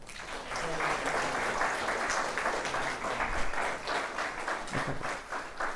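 Sustained applause from a crowd, steady dense clapping lasting several seconds with a voice briefly audible underneath.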